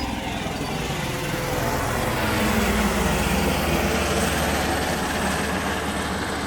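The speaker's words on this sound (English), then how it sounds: "And a helicopter." A steady broadband engine roar from a helicopter flying overhead holds constant throughout without fading, with no voices present.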